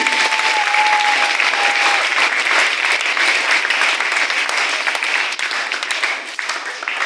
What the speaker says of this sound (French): Acclamons fort pour le Seigneur.